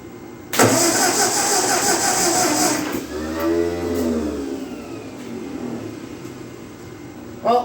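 A 1948 Ford 8N tractor engine cranks over and sputters, catching briefly with rough uneven firing before fading back down; the sound is close and loud with no talk.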